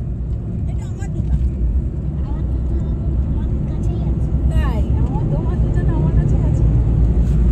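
A car drives along a narrow road in Jharkhand, its steady engine and road rumble continuous and loud throughout, with people talking inside over the drive.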